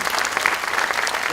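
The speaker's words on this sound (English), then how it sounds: "So let's give a big round of applause for our outgoing students." Audience at a university students' council fresher's day event applauds the outgoing council office bearers, a brief burst of moderately loud, continuous clapping.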